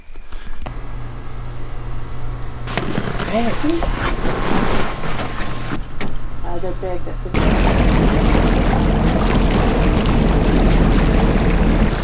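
A charter boat motor drones steadily over broadband water and wind noise while heading out on the Sunshine Coast of British Columbia, Canada, with people talking intermittently, the engine rising louder toward the end.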